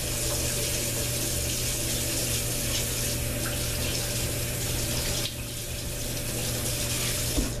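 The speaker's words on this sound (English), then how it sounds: "And then I'm going to quickly rinse my hands again." Hands rinsed with soap under a running kitchen tap while cooking bacon cheese dip: a steady, fairly loud broadband rush of flowing water lasting the whole stretch, dipping slightly near the end, with no talking.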